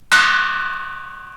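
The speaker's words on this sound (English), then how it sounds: "There are chimes" A single bright metallic chime is struck once, loud and close, ringing with a long shimmering decay that fades slowly across the whole stretch, heard alone.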